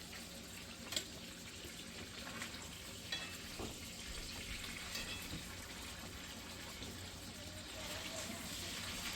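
Venison backstrap sears in a hot pan, giving a steady, fairly quiet sizzle with a few sharp pops scattered through it.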